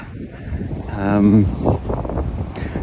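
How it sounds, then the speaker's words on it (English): Gusty wind in Leipzig buffets the microphone with a low rumbling roar, rising and falling over a couple of seconds, with a voice briefly heard in the middle. "It's a bit windy, but you can hear it's suddenly got windy."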